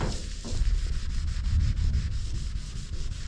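Chalky, oxidized paint on a car hood being scrubbed by hand, a close, steady rubbing rasp with quick back-and-forth strokes and no voices.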